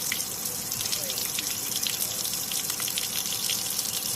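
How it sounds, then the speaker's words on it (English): Water gushing and draining steadily out of a boat on a truck trailer in a swamp setting, a continuous close splashing rush with no break. "I need to move my truck so all the water drains out of here"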